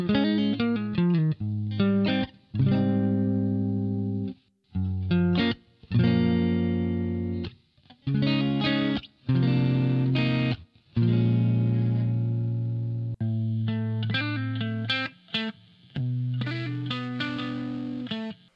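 Heavily distorted electric guitar plays choppy chords and notes in short bursts separated by brief silences, gritty and buzzing.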